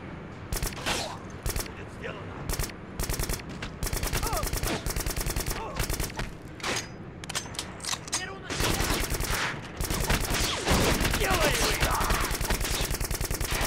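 Rapid video game gunfire crackles in long, loud automatic bursts with short pauses between volleys, sustained and dense, with a voice briefly speaking between the bursts.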